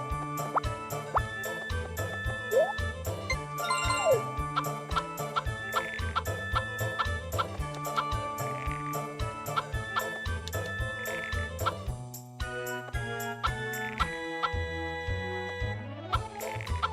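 Game chickens cluck and squawk in short bursts over a constant background tune on a cartoon farm, the calls scattered throughout at moderate loudness.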